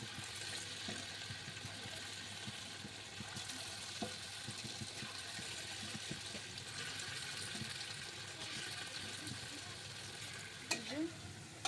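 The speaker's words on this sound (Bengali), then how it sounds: "সাদা তেলে ওলের ফুরুলি ভাজবো তেল দিয়ে দিলাম এবার গরম হয়ে গেছে এবার একটু একটু করে ছাড়বো" Elephant foot yam fritters fry in hot white oil with a soft, continuous bubbling sizzle at low level, plus occasional light clinks and a brief scrape near the end.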